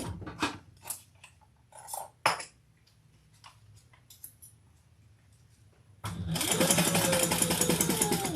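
A sewing machine stitches around a fabric strap for a training treat bag, a fast steady whirring run that starts after scattered clicks and handling noises and keeps going loud and close to the end.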